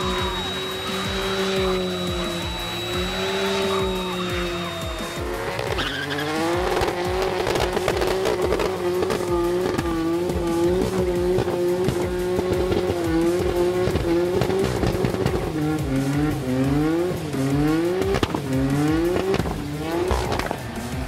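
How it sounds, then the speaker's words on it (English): A Nissan R32 GT-R drifts and does power skids at a Power Cruise event, with its engine repeatedly revving up and down under continuous loud tyre squeal. "We've also seen them turn up in the drifting, dyno comps, even power skids a few times"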